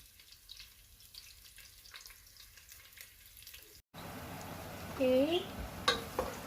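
Chopped onion stirs and sautés in a pan, a soft sizzle that becomes louder and brighter in the second half with scraping stirs, while a voice speaks briefly.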